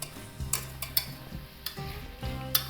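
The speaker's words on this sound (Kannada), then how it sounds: "ಇದನ್ನು ಒಂದು ಸಲ ಬಾಡಿಸ್ಕೊಂಬಿಡೋಣ ಚೆನ್ನಾಗಿ." Tomato, onion, sweet corn and cashews sizzle while being stirred in a pan, with soft scraping strokes and faint clinks of a spoon against the metal, heard up close with no talking.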